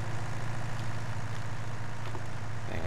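A small tractor in Farming Simulator 19 idles with a steady low engine drone, constant and moderately loud throughout, with no other sounds over it.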